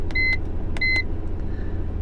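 An iCarsoft BMM code reader scan tool's buzzer gives two quick pairs of short, high electronic beeps, close and clear over a low steady hum.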